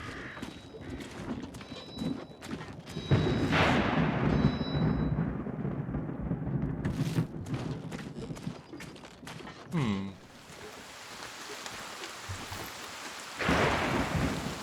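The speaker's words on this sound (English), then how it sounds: "we have normal FPS while it's raining" Rain and rolling thunder in the video game WarTales: steady downpour hiss with several loud thunder cracks and rumbles, plus sharp crackling strikes, all fairly close and without talk.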